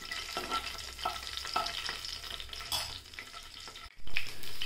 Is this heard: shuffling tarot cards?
no